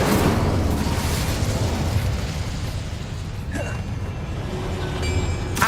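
A fiery whoosh and burst from the Incendio spell in Hogwarts Legacy, a sustained roaring blast with a sharp crackle partway through, loud and close amid game sound effects.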